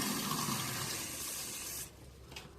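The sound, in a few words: water poured onto a potted plant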